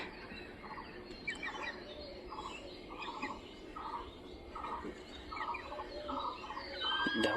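Chickens in a roomy coop make faint, evenly spaced short calls and chirps, repeated steadily at low volume against a soft background hum.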